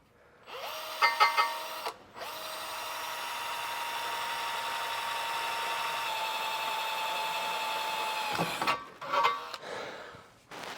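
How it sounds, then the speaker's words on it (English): A power drill bores holes into the bottom of steel trailer frame rails for a leaf spring suspension kit, with a short burst, a pause, then one long steady whine before it spins down into a few brief final revs. "We're going to drill some holes in the bottom of our frame rails here in order to mount up this plate."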